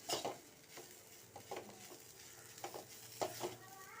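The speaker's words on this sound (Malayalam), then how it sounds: "ഇനി നമുക്കിതിലേക്ക് ഗ്രേറ്റ് ചെയ്ത് വെച്ചിരിക്കുന്ന ഉരുളക്കിഴങ്ങ് ചേർത്ത് കൊടുക്കാം നന്നായിട്ട് ഇളക്കി മിക്സ് ചെയ്ത് യോജിപ്പിച്ചെടുത്ത്" Grated potato thoran being stirred in a pan, a quiet close sizzle broken by repeated scraping strokes of a spoon against the pan.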